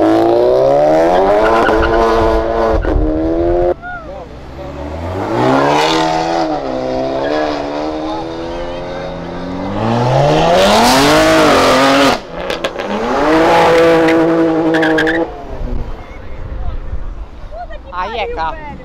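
Cars leave a car event one after another, with loud engines revving hard, rising and falling acceleration sweeps, and tire squeal close by. Crowd noise runs underneath throughout.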